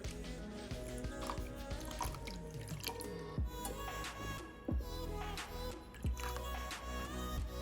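Water poured over cashews and sugar in a pan for kaju katli, with soft dripping and trickling splashes running steadily and faintly under a low background hum.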